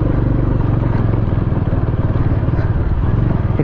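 A motorcycle grinds loudly along a rough, broken mountain road in Spiti, its engine drumming steadily under constant rattling and clattering from the bumpy surface.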